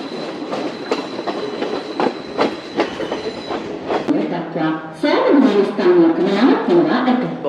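Train at Bandarawela railway station in Sri Lanka, with rhythmic clickety-clack of wheels over rail joints for several seconds, then a louder, denser rumble and squeal as the carriages pass close by.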